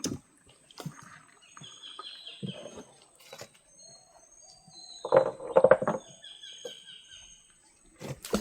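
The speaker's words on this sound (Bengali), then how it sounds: "বিভিন্ন প্রজাতির পাখির ডাক এই নতুন জায়গায় শোনা যাচ্ছে।" Assorted birds calling in a quiet Sundarbans mangrove forest creek, scattered chirps and whistles near and far, with a louder burst of repeated calls midway and occasional soft knocks.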